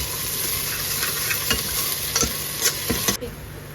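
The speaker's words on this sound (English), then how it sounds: "1 chopped green chilli, curry leaves powder, ginger garlic paste and saute for a minute" Chopped green chilli, curry leaves powder and ginger garlic paste fry with a steady sizzle while a spoon stirs, scraping the pan in several distinct strokes before the sound cuts off.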